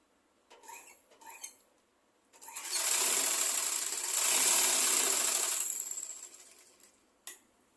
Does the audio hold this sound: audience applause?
no